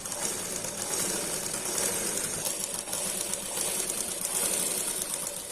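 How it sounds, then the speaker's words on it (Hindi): A sewing machine stitches a blouse collar, its motor giving a steady, close, fast-running whir with a fine mechanical clatter throughout the five seconds, with no voices. "तो हमारे जो है यहाँ तक हमने इसे स्टिच लगाई ली है।"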